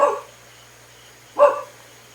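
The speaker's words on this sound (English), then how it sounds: "the dogs barking in my area" A dog barks twice in a residential neighbourhood, two short separated barks at moderate distance over quiet hum.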